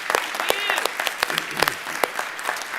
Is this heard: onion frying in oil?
no